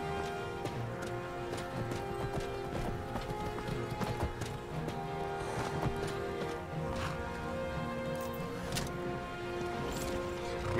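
Horse hooves gallop in Skyrim with a fast, continuous clip-clop rhythm that holds steady and fairly quiet throughout.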